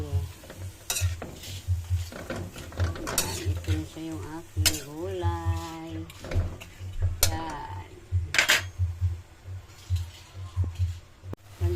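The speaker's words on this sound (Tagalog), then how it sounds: "lalagay ko ang gulay sa pancit miki" Vegetables being stirred into pancit miki noodles in a pan, with a spoon scraping and clinking against the metal over a steady low hum and light sizzle, in irregular strokes throughout; a voice is faintly heard at points.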